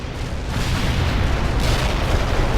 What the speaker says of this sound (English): That's some explosion.